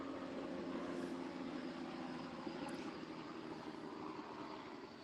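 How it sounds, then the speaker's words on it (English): A helicopter flies over somewhere in the Las Vegas desert area, a steady broadband engine and rotor drone that stays even and moderately distant, with no talk over it. "sorry, there's a helicopter flying over."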